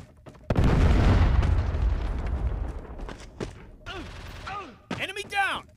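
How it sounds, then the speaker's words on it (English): A Predator missile strike in the Call of Duty Mobile video game explodes with a sudden, loud, deep blast that rumbles for a few seconds. Sharp pops follow, along with game voice callouts. "Friendly Predator missile inbound."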